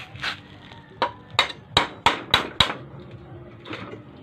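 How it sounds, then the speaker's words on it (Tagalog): A hammer drives a nail against a washing machine motor rivet, about seven sharp metallic strikes in a quickening series, close and clear over quiet room noise. "Pukpukin natin ang ano guys, ng martilyo gamit yung pako."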